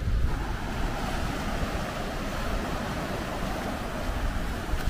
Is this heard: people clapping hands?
no